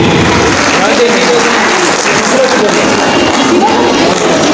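Audience applause and crowd noise at a beautician gala in Abbottabad as a souvenir is presented, a steady dense wash of clapping filling the whole stretch at high volume.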